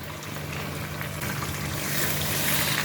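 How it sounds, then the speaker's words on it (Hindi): Half a bowl of water pours steadily into a pot of chickpea curry, a continuous near splashing rush with no talk. "मैं इसमें आधी कटोरी पानी ऐड करूँगी"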